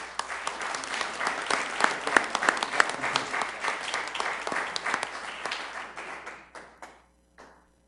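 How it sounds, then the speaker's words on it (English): An audience at a city council meeting in Sioux Falls gives a round of applause for a man named Mark, a full, busy clapping that holds steady for several seconds, then thins out and stops, with a few stray claps at the end. "Everybody, can we have Mark a round of applause?"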